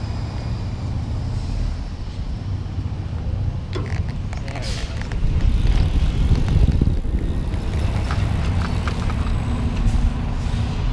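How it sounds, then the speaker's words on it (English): An eVox City electric bike with belt drive rides in throttle mode, a low road rumble and motor whir under heavy wind buffeting on the microphone, growing louder as it speeds up. "show you how that belt drive works"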